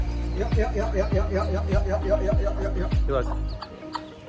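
Chickens cluck in a rapid, repeated run of short calls close by, at a birthday-free family outing during a Ganesh immersion celebration, fading out at the end.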